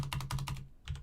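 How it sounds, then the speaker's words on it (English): Rapid keystrokes clatter on a computer keyboard in a quick burst of about five clicks, a short pause, then two more, close and fairly quiet with no voices. "I've been typing non-stop, so that way you won't have to hear that clicking as well."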